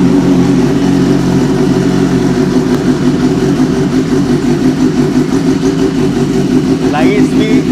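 A motorcycle fitted with a custom SC Project exhaust runs steadily close by with a loud, continuous engine drone, while someone talks over it.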